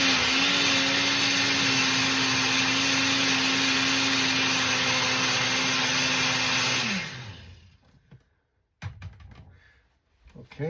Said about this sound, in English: put the lid on the blender before you start blending